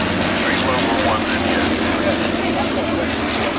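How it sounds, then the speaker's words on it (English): A Sopwith Camel biplane's rotary engine drones steadily in flight throughout, a constant broad roar with a narrator talking over it. "joining it now is our Sopwith Camel."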